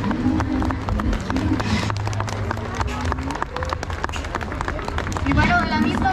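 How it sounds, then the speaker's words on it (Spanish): An outdoor crowd claps at a Christmas tree lighting in Yuriria, giving a steady, moderately loud patter of many hands under crowd chatter and nearby voices. "fuerte aplauso."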